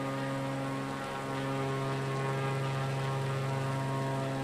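In Microsoft Flight Simulator 2020, the propeller engine of an aerobatic light plane drones at a steady, even pitch, cruising continuously with no talking.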